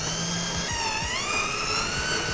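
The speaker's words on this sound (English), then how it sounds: "we're going to use those short screws again to fix this onto the board." Power drill driving short screws into a furniture board for a media console, a steady whirring motor with slight pitch shifts and short tapering bursts, close and continuous.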